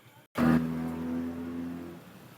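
A stock Honda Wave 110i motorcycle with a remapped ECU revs once sharply after a brief pause, holding a loud, steady engine note for over a second before easing off, close by.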